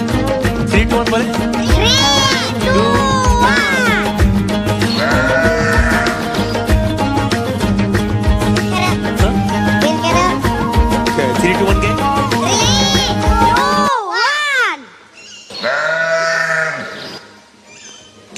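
A voice imitates a goat's bleat in repeated, wavering, nasal cries, loud and close, over a dense backing sound that drops away near the end, leaving a last few bleats more exposed.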